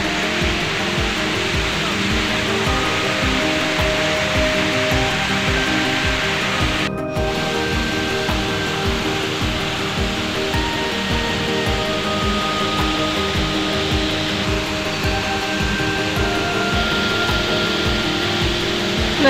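The Coban Canggu waterfall at Pacet, Mojokerto roars loudly and continuously, a dense wash of falling water with a brief dropout partway through and no clear speech.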